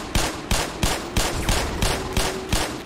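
Gunfire in the shooter game Black Mesa: a rapid series of about eight sharp, loud shots at a steady rhythm, each with a short booming tail, close and with no speech over it.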